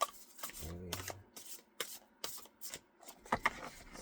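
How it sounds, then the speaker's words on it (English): Tarot cards being shuffled by hand, a run of soft riffling and rubbing bursts in quick succession, close and clear, with a brief low hum partway through and no talking. "Let's see what can happen here as we shuffle to try and get one card."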